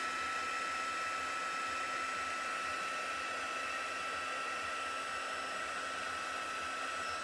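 A heat tool blows a constant, even whir while melting white embossing powder on cardstock, a steady close hum with a high whine that holds unchanged throughout, with no voices.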